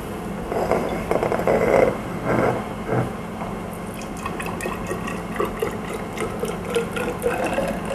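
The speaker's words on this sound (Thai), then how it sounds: "เราจะ ตวงน้ำออกขวดละ 99 ml นะคะ" Water poured into a measuring cylinder, a steady close splashing and trickling that swells early and then settles into a softer, even flow.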